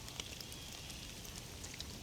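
Steady rain falling in the survival game DayZ, a dense continuous hiss that fills the background evenly with a few faint drips and crackles, no voices over it.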